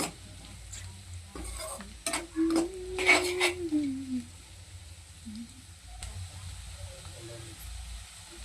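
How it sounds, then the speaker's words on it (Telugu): Bitter gourd fry is stirred in a pan, with clattering spoon scrapes and knocks against the metal over a quiet sizzle. A brief voice-like tone is heard partway through. "మధ్య మధ్యలో ఇలా కలుపుతూనే ఉండాలి."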